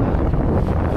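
Gusty wind buffets the microphone at sea, a dense, rough rush filling the whole moment with no voices.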